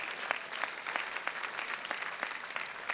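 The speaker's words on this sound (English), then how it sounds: "Go ahead, clap for yourselves." An alumni audience at Harvard Alumni Day claps for themselves, steady crowd applause with scattered sharper individual claps, fairly distant and filling the room.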